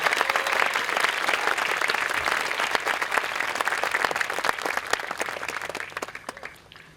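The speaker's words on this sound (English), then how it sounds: "Let's everyone give one more round of applause to our salutatorians and our valedictorians." A crowd at a graduation ceremony applauds salutatorians and valedictorians, a dense, sustained clapping that stays full for several seconds before tapering off toward the end.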